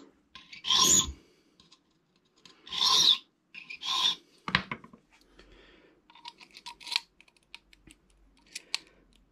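A cylinder lock key blank being hand-filed: several loud, separate rasping strokes, then a series of shorter, lighter strokes, all close with no talking.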